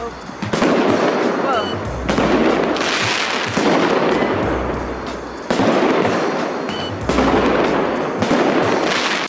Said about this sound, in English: Chinese people invented fireworks, and they do not mess around.